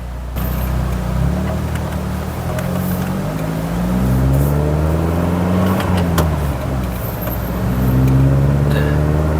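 A Mercedes-Benz C200 W202, freshly rebuilt after an engine overhaul, pulls away and accelerates through several gear changes, its engine note rising and falling steadily from inside the cabin.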